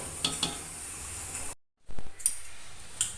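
Semolina porridge stirred in a pan on the stove, giving a soft continuous scraping hiss with a few light spoon clicks, broken by a brief silent gap before stirring resumes.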